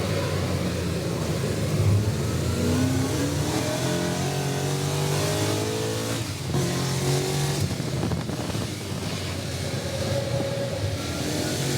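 Race car onboard on a fastest qualifying lap over a bumpy up-and-down circuit, the engine loud and close throughout, revving and shifting continuously with rising and falling pitch under wind and road rumble.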